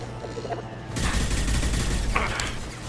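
Gunfire in the video game Mass Effect 2 erupts abruptly into a loud, sustained fusillade of rapid shots and booming impacts that runs continuously after a quieter opening moment.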